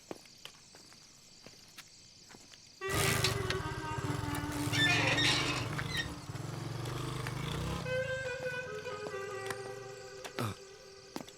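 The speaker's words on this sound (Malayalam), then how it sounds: "ശരി കേട്ടാ, ബൈക്ക് ഞാനൊന്ന് എടുക്കുവാണേ." A motorcycle engine starts up close by in a quiet nighttime setting and keeps running at a steady idle for several seconds, a loud, constant rumble over faint background noise.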